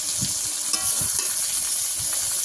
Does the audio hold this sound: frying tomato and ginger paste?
yes